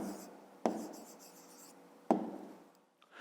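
A pen writes an answer in a notebook. Two sharp taps mark the start of each stroke, followed by soft scratchy scribbling, quiet and close.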